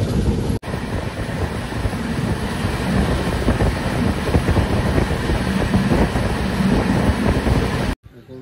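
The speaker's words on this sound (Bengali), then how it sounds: "এখন ট্রেন জাস্ট আসে কুমোরপুর জংশনে" A train arriving at Kumarpur junction in the rainy season, a loud steady rumble with wind buffeting the microphone for several seconds before cutting off abruptly.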